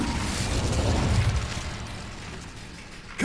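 Incendio fire spell cast in Hogwarts Legacy, a roaring whoosh of flame with a low rumbling burst that fades over a few seconds, ending in a sudden sharp hit.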